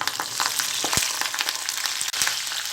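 Curry leaves, seasoning seeds and dried red chillies sizzling in hot oil in a pan, a continuous bright crackle with a few sharper pops, close and steady.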